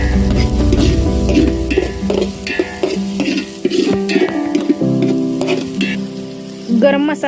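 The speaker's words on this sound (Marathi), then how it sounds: "जेणेकरून करपणार नाही याकरता हे सर्व साहित्य हलवून घ्यायचे" Spices being stirred and sautéed in a pot over a wood-fired stove for spicy mutton rassa, with a steady sizzle and repeated scraping stirs throughout, close and fairly loud, no talking.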